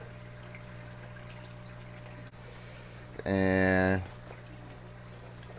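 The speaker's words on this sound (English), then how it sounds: "Water got out everywhere." Water spilling from a fish tank in a fish room, a short loud gushing splash of about a second over steady pump and filter hum, with a brief spoken word.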